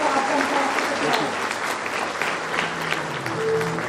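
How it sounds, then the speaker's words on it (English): Steady applause from a crowd at a school performance, continuous clapping throughout with a murmur of voices and scattered talk mixed in. "Let's give them a big round of applause"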